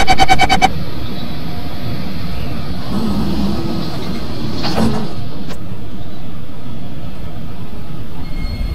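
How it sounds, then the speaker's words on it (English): In a Roblox game, an SMRT train's door chime sounds briefly at the start as doors close, followed by a steady, loud rumble of a train interior with a soft sliding thump midway. "Doors are closing."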